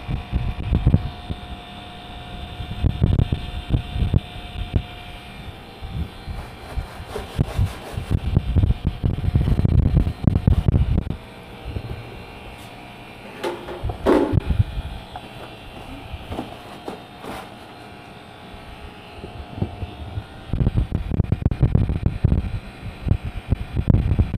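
A Panasonic 5 HP cassette-type inverter air conditioner that is not cooling runs its fan at high speed, a loud, steady airy roar with a throbbing, pulsing undertone and occasional clicks.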